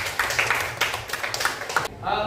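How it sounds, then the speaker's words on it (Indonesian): Classroom applause from students, a run of close, uneven clapping bursts lasting about two seconds before cutting off into quieter room sound. "Tepuk tangan untuk Firsa."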